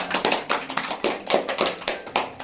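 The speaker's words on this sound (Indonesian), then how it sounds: "tepuk tangan dong untuk kita semuanya" Hands clap in a fourth-grade classroom in a short, uneven burst of sharp, overlapping claps from a small group, close and moderately loud.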